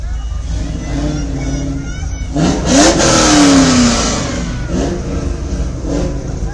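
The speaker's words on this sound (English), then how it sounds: "Trans Am making some noise." A Pontiac Trans Am revs its engine during a Memorial Day parade in St. Marys, Pennsylvania, a loud rising roar over steady crowd and street noise, peaking midway and settling back to a throaty idle.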